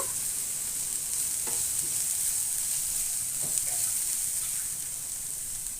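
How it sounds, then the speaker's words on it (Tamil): Onions and curry leaves frying in a pan for a carrot, bean and egg stir-fry, a steady bright sizzle with a few scraping stirs of a spatula, no talking. "கருவேப்பிலை சேர்த்துட்டு நல்லா இதை கலந்து விட்டுருங்க"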